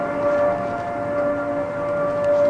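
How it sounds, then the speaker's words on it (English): Civil defense siren blaring across downtown Harrisburg during the Three Mile Island crisis, a sustained, steady wailing tone heard from a distance with no voices. "Someone had set off Harrisburg's civil defense alarm"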